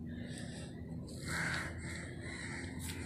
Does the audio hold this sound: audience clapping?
no